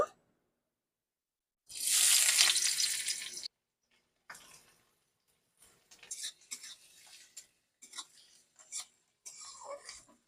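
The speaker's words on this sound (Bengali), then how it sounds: "পেঁয়াজটাকে আমি হালকা করে ভেজে নেবো" Chopped onions and a split dry red chilli hit hot oil in a pan with a loud, bright sizzle burst, followed by short intermittent scrapes and clinks of a spatula stirring them as they lightly fry.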